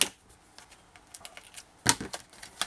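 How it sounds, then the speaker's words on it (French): Adhesive tape pressed onto a scrapbook page beside a magnet, giving a quiet series of short crinkly clicks and taps, with one louder crackle near the middle and lighter ones after it. "vis-à-vis l'aimant, je vais mettre un ruban adhésif."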